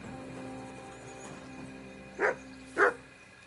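A dog in a video game, called Mutts, gives two short barks close together near the end, heard over a quiet steady background hum.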